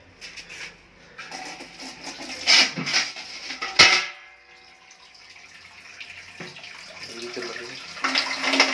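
Cold water poured over someone bathing, loud splashing bursts and pouring with a short gap, then a gentler trickle and more splashes near the end, close by.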